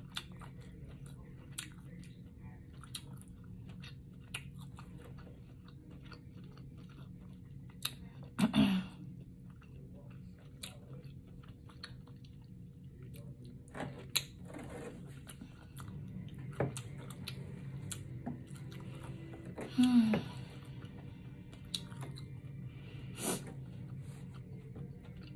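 Shrimp from a seafood boil in a spicy sauce being chewed close to the mic, soft wet crunching and smacking with occasional louder bites, quiet and intermittent.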